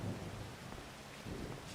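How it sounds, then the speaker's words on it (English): Rain pours steadily in Farming Simulator 25 with a low rumble of thunder, a continuous soft wash of noise without any voices. "Ah, and it's raining again."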